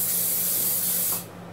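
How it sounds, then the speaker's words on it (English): Cooking spray hisses into a small bowl in one steady, close burst of about a second before cutting off sharply, with no voices. "Get your small bowl, get your cooking spray."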